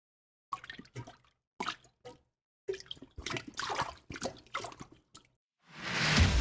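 A rubber toilet plunger pumping up and down in a clogged toilet bowl, giving a run of wet plops and sloshing squishes in short uneven bursts with brief pauses, close by, ending in a rushing gurgle of water.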